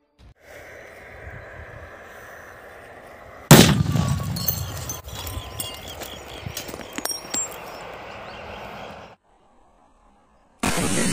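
A firecracker goes off inside a television with a sharp, loud bang, followed by crackling debris and a lingering hum. A short silence comes before a renewed loud noise.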